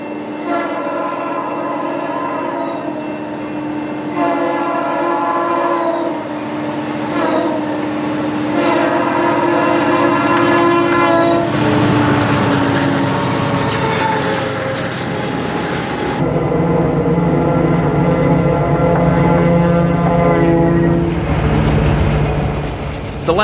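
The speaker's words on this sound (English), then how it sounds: "the train kicks up a ton of snow as it comes past." A train rumbles past with a long, loud horn, wheels and cars roaring steadily, a broad rushing noise swelling midway as snow is thrown up.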